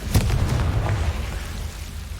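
A Confringo spell explosion in the Hogwarts Legacy video game, a single deep fiery boom with a crackling burst that rumbles and fades over a couple of seconds.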